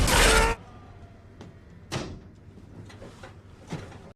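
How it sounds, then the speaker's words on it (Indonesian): A door bursts open suddenly with a loud, rushing crash at the start, then a few fainter knocks and thuds follow in a quiet, tense room. "Pintu yang tak ia kunci kini tiba-tiba terbuka."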